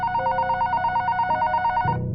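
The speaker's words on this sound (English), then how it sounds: "the phone to our room rang." A hotel room telephone rings with a steady electronic trilling tone, loud and close, repeating for about two seconds before cutting off.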